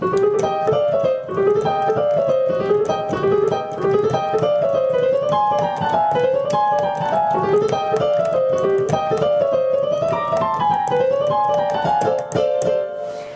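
Lively boogie-woogie piano with a rolling bass and a busy, repeating right-hand melody, played continuously and fairly loud, no one speaking.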